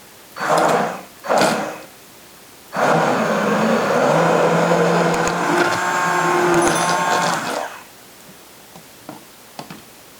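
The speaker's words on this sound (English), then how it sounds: "take my immersion blender and just puree all of the apples and cranberries here" Two short whirring bursts, then an immersion blender runs steadily for about five seconds, a loud grinding whine churning through cooked apples and cranberries, before stopping.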